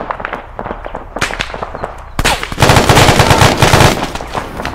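Machine guns fire in the military shooter game Arma 3: loud rapid bursts crack close by, then give way to a denser, sustained volley of fire.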